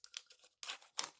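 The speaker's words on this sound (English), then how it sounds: "I need to find a better way to unwrap this." Plastic packaging being torn and crinkled open around a new t-shirt, coming in three quick, close bursts of tearing and rustling separated by short pauses.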